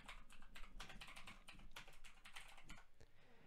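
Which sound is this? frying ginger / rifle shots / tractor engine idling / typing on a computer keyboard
typing on a computer keyboard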